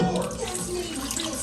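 Two cups of water pour into a pot while chop suey is made in a home kitchen, a continuous splashing, gurgling stream at close range with a voice faintly beneath it.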